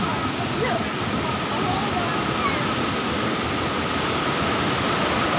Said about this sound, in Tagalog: So, ayan po yung tinatawag nilang falls.